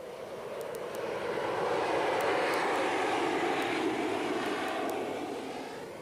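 A military jet aboard the amphibious assault ship Saipan roars steadily, the broad engine noise swelling and then easing slightly, with faint ticking clicks over the top.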